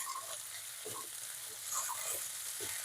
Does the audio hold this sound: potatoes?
yes